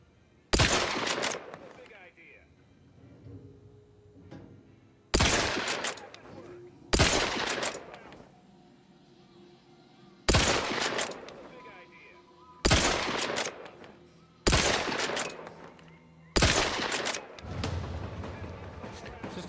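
The player's gun in the video game The Outer Worlds 2 firing in seven separate loud bursts, each a short rattling volley with a booming onset, spaced a few seconds apart with quieter game ambience between them.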